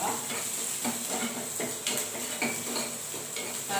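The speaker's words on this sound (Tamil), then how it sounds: "போட்டு நல்லா ஃப்ரை பண்ணுவோம்." Small sambar onions and curry leaves frying in a pan, a bright steady sizzle with repeated scraping and clinking strokes of a spoon stirring, close and without talk.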